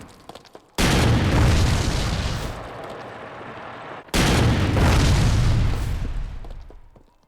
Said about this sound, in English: Bogus and his wingman fire 3 rounds into it